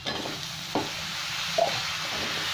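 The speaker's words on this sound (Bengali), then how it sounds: "এবার আমি আলুগুলো দিয়ে দিলাম।" Potatoes drop into spice masala frying in oil and are stirred, with a steady close sizzle, a soft thud as they land and a brief scrape of the spoon.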